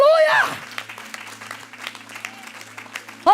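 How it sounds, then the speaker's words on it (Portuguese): A church congregation claps in scattered, fairly quiet applause. A preacher's voice briefly opens and closes the stretch, and a low hum runs underneath. "Pode aplaudir."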